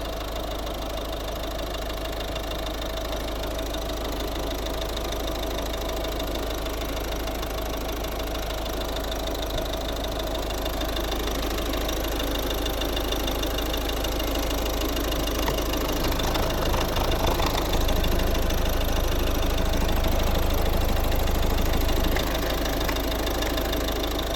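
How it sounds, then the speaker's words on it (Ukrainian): A 2011 Volvo V50 D2 1.6-litre diesel engine idles steadily and evenly, a low continuous rumble with a faint ticking knock running underneath, close by and unbroken. "Ось робота двигуна."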